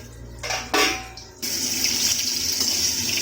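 Hot water is poured into a pot of dal and rice, a short clatter and splash followed by a steady close pouring rush.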